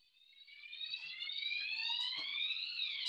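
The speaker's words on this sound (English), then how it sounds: "Oh, yeah, fire alarm." A fire alarm sounds indoors, a rising, sweeping electronic tone that swells from faint to steady and loud over a few seconds, with faint background noise.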